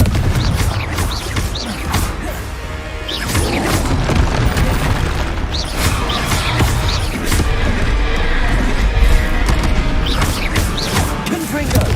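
Fire-blast spell explosions from Hogwarts Legacy, on hard mode, boom loudly and repeatedly amid dense, continuous game combat noise with crashing impacts.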